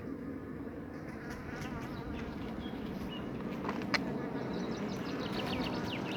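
Dense, continuous buzzing of a swarm of honeybees at a hive close by during the chestnut honey flow, loud and steady, with a few faint chirps above the drone.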